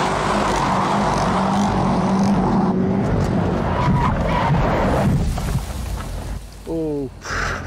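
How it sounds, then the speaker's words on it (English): A car engine on Top Gear roars steadily through repeated revs, loud and close, then drops away toward the end, where a brief voice breaks in. "I want to do lots of revs."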